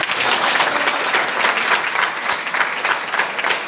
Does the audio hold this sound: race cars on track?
no